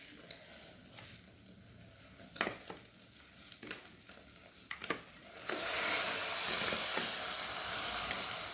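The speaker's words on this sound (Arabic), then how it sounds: "هنزل بقى بالرز بتاعي" Rice going into a hot pan, with scattered stirring clatter and scrapes before a sudden loud, steady sizzle of frying takes over and keeps hissing to the end.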